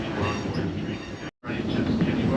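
An Amtrak Cascades passenger train runs on the rails between Seattle and Vancouver, a dense, steady rumble and rattle heard from inside the coach, briefly cutting out before resuming.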